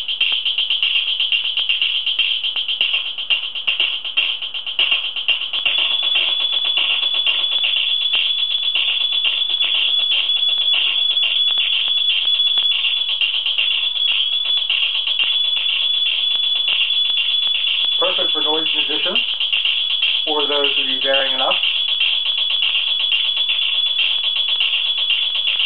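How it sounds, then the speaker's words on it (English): An electric guitar runs through a modified Boss DS-1 distortion pedal set to a thin, high-passed mode, giving a shrill, steady buzzing drone throughout with two brief swooping notes near the end and no talking. "I like to call this the ear paint thinner. It basically adds a kind of high pass filter type sound"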